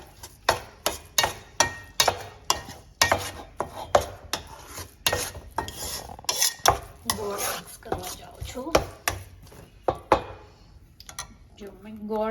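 Sukhdi ingredients are mixed into hot flour in a pan, with repeated sharp scraping and knocking strokes of a spoon against the pan in an uneven rhythm while someone talks over them.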